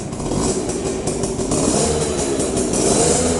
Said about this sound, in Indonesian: Sekarang kita akan cek sound bagaimana suaranya motor V80 ini